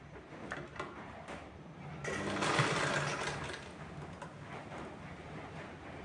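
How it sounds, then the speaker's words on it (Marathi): Sewing machine stitching the edges of baby shoe fabric, a steady close whirring hum that swells louder midway through, with no talking. "हे दोन जे कडा आहेत त्या आपल्याला बघा शिवून घ्यायच्या आहेत"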